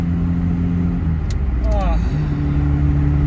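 A car fitted with a Weber 32/34 carburetor gives off a loud, steady engine and intake drone, close by and continuous, while a voice talks over it.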